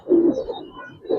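Giribaz pigeon kept indoors gives a short, soft coo, close and alone in a quiet room.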